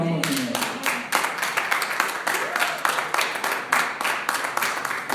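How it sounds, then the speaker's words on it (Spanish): A church congregation claps at a Spanish-language sermon, with rhythmic hand claps in a steady beat, mixed with voices and a brief spoken word. "Dale un aplauso al Señor."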